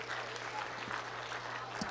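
An audience in a chapel applauds art competition entrants, a dense, steady patter of many hands clapping at moderate distance, with a voice speaking briefly over the clapping.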